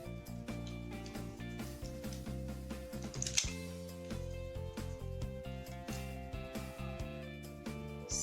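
Scissors snip through gown fabric in a quiet room, a series of close, faint crisp cuts and rustles repeating at an uneven rhythm with no talking.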